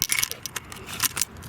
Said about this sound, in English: Grab the keys out and we'll hop in.